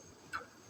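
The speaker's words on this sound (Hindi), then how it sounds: "फ्लेम को ऑन करेंगे" A gas stove burner gives one short, sharp ignition click under a pan holding two cups of water, set for making coconut milk in a home kitchen; the click is close and crisp against quiet room tone.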